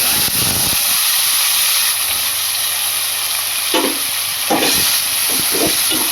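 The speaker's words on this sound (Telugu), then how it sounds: "టమాటాలు వేసి ఉడికించుకోవాలి" Tomatoes cooking in a hot pan produce a loud, constant steamy hiss and sizzle close up, with a few spoon scrapes and knocks against the pan.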